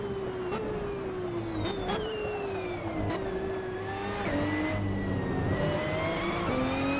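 A racing car's engine in the Assetto Corsa driving game drones loudly and steadily, its pitch sliding down and jumping between gear changes as it brakes and accelerates, with no talk.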